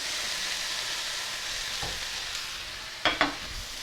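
Onions, peppers and snow peas hitting a hot pan, with a steady broad sizzle throughout and a couple of sharper clattering stirs near the end, close and alone.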